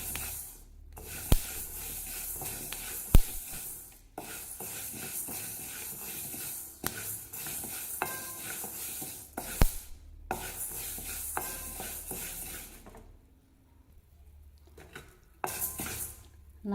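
Black urad dal dry-roasts over low heat while a spoon stirs it around a pan. Grainy scraping and rattling come in bursts with clinks of metal and a few brief pauses.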